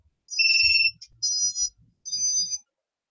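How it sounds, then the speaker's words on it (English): A drone's buzzer sounds when its battery is plugged in: three short bursts of high electronic beeping, each lasting about half a second, close and clear with no speech. "So when I plug this in, you hear it. This one's got the buzzer and all."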